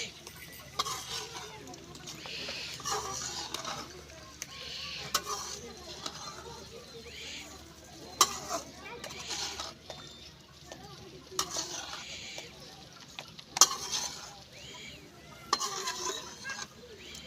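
A spoon stirs soybean gravy in a pan, making soft scraping and occasional metallic clinks over a faint sizzle, with a voice talking quietly in the background.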